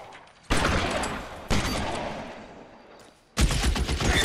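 Bursts of gunfire in the detective video game L.A. Noire, loud and dense, arriving in three long volleys with short gaps between them, close and harsh with no voices.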